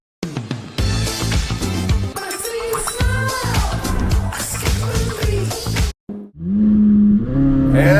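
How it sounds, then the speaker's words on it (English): A Corvette with a dual-clutch gearbox makes wheel spin as its engine revs hard, a loud, dense roar with squealing tires lasting several seconds, then a brief drop and a renewed rising rev. "Wheel spin."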